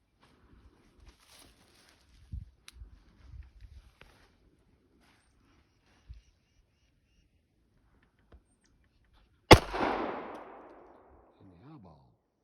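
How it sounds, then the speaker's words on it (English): A single loud, sharp gunshot from a Kimber 1911 .45 ACP pistol firing Remington 230-grain rounds cracks out near the end, followed by a short decaying echo, after scattered quiet handling noises. "I'm shooting Remington 230 caliber bullets through it, so we'll see how it does."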